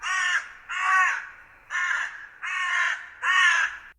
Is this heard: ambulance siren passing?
no